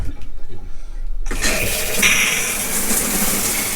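A shower tap in a motorhome's fresh water system bursts into a loud, steady rush of running water during a sanitising flush, after a few seconds of quieter rumbling.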